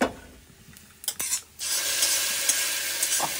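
Hot tempering for mango curry, turned off the heat and poured into the pot, bursts into a loud sizzle that holds steady while being stirred, with a few brief clinks and scrapes of a spoon just before.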